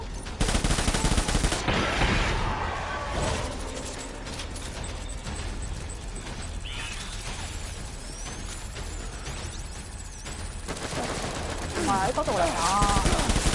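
Rapid automatic gunfire in a PS4 shooter game, dense bursts and fusillades with mechanical clatter running almost continuously, loud, while players shout and talk over it.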